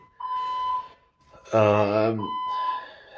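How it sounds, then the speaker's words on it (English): Building fire alarm sounding in repeated tones, partly masked when a person speaks over it in the middle. "five fire alarms in less than 24 hours"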